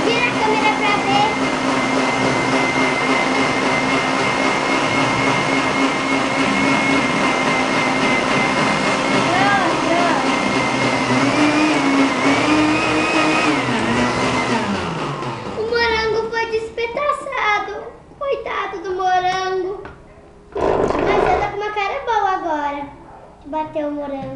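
A blender whirs loudly and steadily as it purees a strawberry and banana smoothie, then stops abruptly after about fifteen seconds, and excited voices take over.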